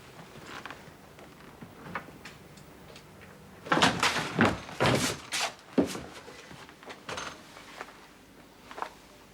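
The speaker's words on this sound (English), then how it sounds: "You open the door." A door opened in a 1970s period drama setting, heard as a cluster of close wooden clunks, latch rattles and knocks in quick succession, then a few softer taps fading out.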